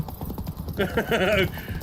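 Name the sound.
galloping horse hooves in The Witcher video game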